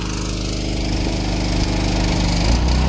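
An old power washer's motor strains at full throttle on a dairy farm, a loud, steady droning roar close by with a constant buzzing hum and no talking.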